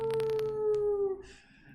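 A person imitates a wolf howl at the close of a guided team meditation: one long, sustained, gently falling tone, fairly close and clear, ending with a soft trailing breath.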